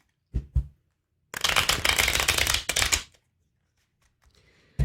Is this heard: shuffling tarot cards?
yes